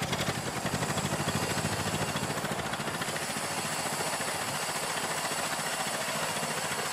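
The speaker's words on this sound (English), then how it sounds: "you can hear the engine running quite rough." A Ford Model T engine idles roughly, with a steady low chugging and uneven throb that continues alone throughout, fairly close.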